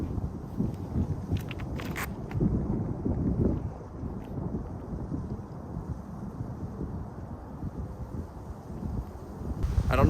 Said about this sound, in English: I'm pretty sure y'all can tell, but it's super windy up here.